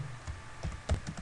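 Short burst of computer keyboard typing, a few soft irregular key taps heard alone at close range.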